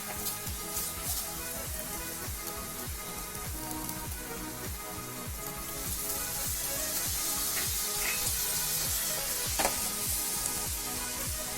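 Poppy seed paste with green chilli fries in a pan with onion and garlic for Bengali dim posto. It makes a dense, close sizzle with rhythmic stirring scrapes that grows a little louder midway, with no talking.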